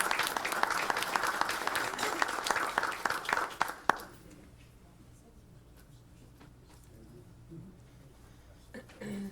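Loud applause from the audience at a school board meeting fills the first four seconds, then stops abruptly, leaving quiet room noise with faint shuffling.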